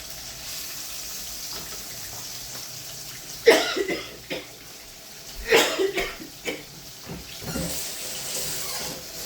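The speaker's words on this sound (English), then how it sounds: "Even though I didn't use my hand to cough" A couple of short coughs ring out over running tap water, with splashing and clattering in a kitchen sink while cooking chicken tikka masala.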